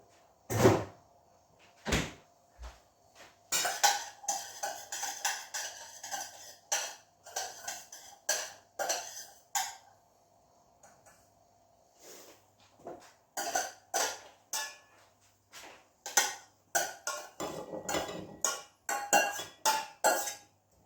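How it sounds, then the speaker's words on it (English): Spoon scraping and clinking in a pan of butter beans, then serving out, with a run of short clanks, knocks and scrapes in irregular bursts, fairly close and alone. "we'll just give that a quick stir around and then dish that up"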